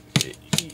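Curved scissors chop model railway tree foliage, two sharp, close snipping cuts spaced about a third of a second apart, each with a quick crisp rattle.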